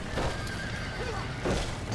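Horses whinnying inside a burning barn in the Red Dead Redemption video game, shrill neighs rising twice over a dense crackling roar, with faint hoof clatter mixed in.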